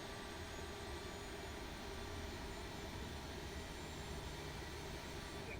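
An Aerosoft CRJ jet engine in a flight simulator spools up during engine start, giving a steady, faint turbine whine over a broad, even rush. The sound holds constant throughout with no voices.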